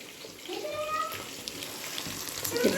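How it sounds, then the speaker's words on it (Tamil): Food frying in oil for a home lunch, a soft continuous sizzle with faint bubbling and occasional pops, close by, with a brief voice near the end. "சரி, பொரிச்சு எடுத்துடலாம்"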